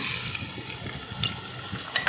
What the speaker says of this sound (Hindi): गरम होने के बाद हम इसमें डालेंगे 1 अदद प्याज है बड़े साइज़ की।